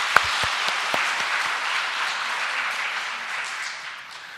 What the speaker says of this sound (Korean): 우리 친구들 위해 박수 한번 주시죠.